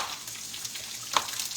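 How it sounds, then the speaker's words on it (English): Potatoes fry in a pan for a breakfast hash, giving a soft, steady sizzle throughout with one brief sharp click near the end. "Got some potatoes frying up over here."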